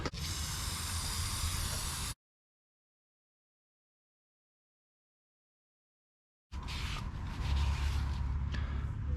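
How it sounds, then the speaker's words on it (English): Two long, steady bursts of carbon and choke cleaner aerosol spray hiss onto a Toyota Tundra throttle body, the first lasting about two seconds, then a pause of silence before a second, slightly louder spray. "I'm just going to use some carbon choke cleaner, but basically just going to spray it on here."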